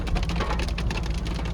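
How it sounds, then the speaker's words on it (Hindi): Light rain falling in the Himalayas on the Spiti circuit, a steady close patter of drops with a dense hiss throughout, no voices. "बारिश भी आ गई हल्की फुल्की, हो ठंड भी हो गई ज़्यादा"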